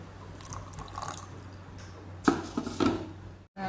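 Water pouring in a home kitchen: a quiet background, then a short splashing burst of liquid with light clatter of a pot or vessel, stopping briefly before another sound begins.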